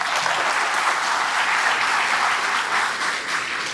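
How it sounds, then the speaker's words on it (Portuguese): Sustained, dense applause from a lecture audience at a supermarket business talk, a steady round of clapping for an honored guest lasting the whole stretch, fairly close and even without voices over it. "Uma salva de palmas de novo para o seu Elias."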